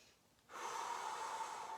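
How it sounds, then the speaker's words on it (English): A single deep inhalation drawn in through the nose during a stretching session, starting after a brief quiet pause and continuing steadily and close, with no talk. "for deep breathing, in through the nose, belly goes out like a pregnant belly"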